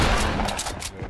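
A quick burst of rapid gunfire in Fortnite Battle Royale, several sharp shots in a row, loud and close, with a voice talking over it.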